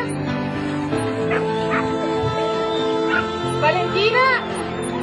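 Yaps and whimpery barks from a young segugio hound, about a year and a half old, rise several times over a steady bed of close talk and crowd noise at an outdoor dog adoption event.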